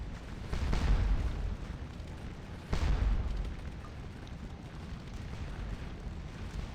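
Artillery guns firing in the Scourge of War battle game, two deep booming blasts a couple of seconds apart over a continuous low rumble.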